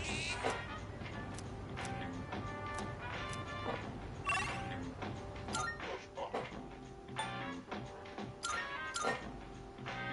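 In the video game Persona 3 Reload, a cat meows among game sound effects and a string of clicky ticking menu noises. Its soft cries recur over steady background music.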